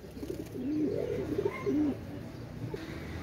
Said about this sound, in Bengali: এটা হচ্ছে পাকিস্তানি ডাবওয়ালা কবুতর